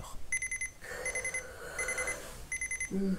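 An electronic alarm clock rings in rapid bursts of high beeps, repeating in rhythmic groups, fairly close with no one speaking.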